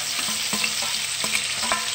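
Onions sizzle steadily in a hot pan for laing, with an even frying hiss and a few soft stirring scrapes over it, close and continuous, with no voices.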